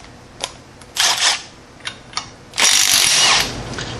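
A power tool spins off the front hub nut of a 2005 Suzuki Eiger ATV with a 1-1/16 socket, giving a few short whirring bursts and then a longer sustained run, loud and close.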